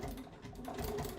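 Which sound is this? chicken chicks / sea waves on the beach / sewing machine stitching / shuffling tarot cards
sewing machine stitching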